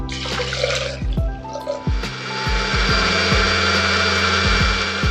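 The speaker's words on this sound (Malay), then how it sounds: "Jadi kita akan blend dahulu kita punya bahan-bahan ni." A blender runs steadily, whirring and churning spice paste ingredients blended with plenty of water, with repeated low thumps as the mix knocks around the jar, loud and close.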